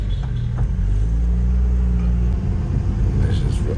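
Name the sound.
rebuilt Honda Civic D16 engine revving while driving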